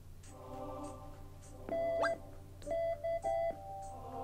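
A phone beeps in the video game Pokémon Super Mystery Dungeon. Several short electronic tones come in clipped bursts over faint game music.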